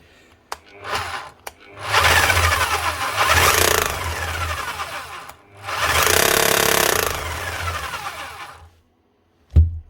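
A broken Bosch hammer drill being test-run on the repair bench, whirring in two sustained bursts of a few seconds each with short clicks and a sharp knock at the end, loud and close with no talk.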